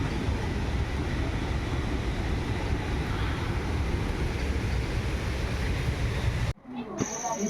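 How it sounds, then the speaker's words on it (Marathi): A loud, continuous rumbling roar of a train passing nearby in the Konkan countryside on a rainy day, steady throughout before cutting abruptly to quieter surroundings at the end. "इकडे ट्रेन जाते बघा."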